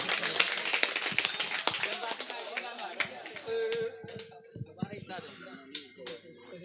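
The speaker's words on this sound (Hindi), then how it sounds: "आइए इनका इस्तकबाल तालियों से करें।" Audience at a shayari poetry gathering clapping to welcome a poet, with scattered sharp claps thinning out over several seconds, mixed with talk and a brief tone midway.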